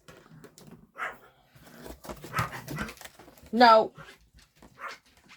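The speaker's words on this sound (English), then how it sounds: "The neighbor's dog came out in their yard, and my little dog and him are just, I would not say mortal enemies, but they're bark friends." A neighbour's dog barks and pants outdoors in a yard, a few short barks and whines that come and go, with a person speaking over and between them.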